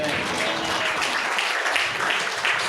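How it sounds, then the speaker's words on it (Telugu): Church congregation clapping together, a dense steady wash of applause filling the room with no break across the whole stretch. "చప్పట్లు కొడదాం దేవునికి."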